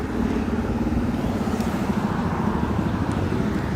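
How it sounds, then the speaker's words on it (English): Loud cars driving past on a road outdoors, a continuous rumbling traffic roar that stays steady and close throughout with no talking. "we got the Varooms going by here"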